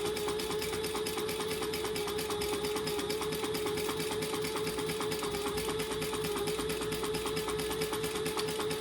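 A sewing machine runs steadily, stitching fabric pieces for a travel jewelry case at a stitch length of 4, its rapid even needle rhythm continuous and close throughout with no talk.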